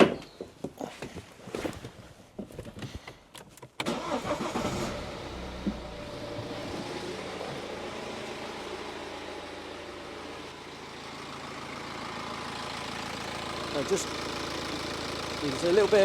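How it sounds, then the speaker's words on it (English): A BMW 3 Series diesel engine cranks and fires, then settles into a steady idle with a low rumble, after a stretch of clattery handling noises and brief talk. "So if I just fire the car up again now,"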